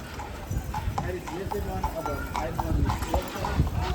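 Horse-drawn carriage hooves clip-clop on a street in Interlaken, Switzerland after rain, a brisk, steady trotting rhythm close by while people talk over it.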